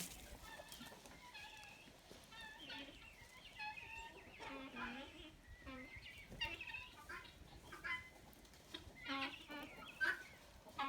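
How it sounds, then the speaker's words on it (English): Chickens cluck and squawk repeatedly nearby in an irregular, busy stream, with a person talking quietly underneath. "We can watch the chickens over here."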